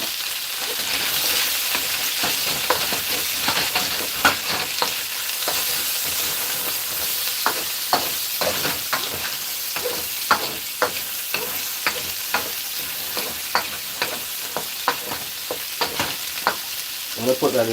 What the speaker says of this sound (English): You want to saute that with the wing.